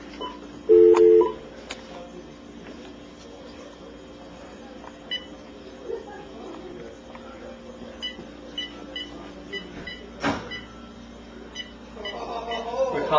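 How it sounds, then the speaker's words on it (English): Telephone keypad dialing tones for a call on speakerphone, one brief, clear burst of beeps early on, then a low hum and scattered faint noises with people talking. "We're calling this kid who's just trying to do nice stuff."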